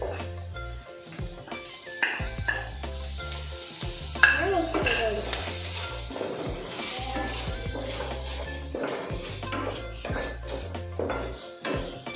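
Semiya upma with curry leaves is stirred in a pan, with a soft sizzle and occasional spoon scrapes under steady background music; no one talks.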